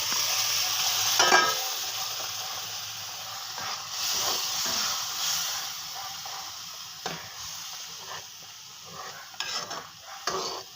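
Tamarind water with jaggery is poured into a simmering ginger curry, setting off a loud steamy hiss and sizzle that fades into softer bubbling, broken by a few stirring scrapes.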